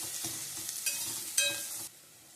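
Garlic sautés in a pan for a spicy Tamil fish curry, a soft sizzle broken by a few sharp spatula scrapes and clinks, close and brief before the sound drops away.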